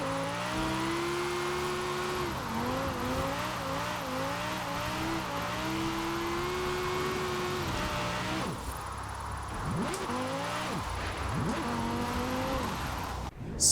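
A limousine in the Forza Horizon 4 racing game is drifted, its engine revving and wavering in pitch as the throttle rises and falls, with a sharp dip and recovery near the end, loud and continuous.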